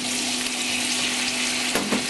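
Tomatoes dropped into onions sautéing for ginisang Baguio beans with pork, giving a steady, close sizzle and frying hiss throughout, with a brief burst of stirring near the end.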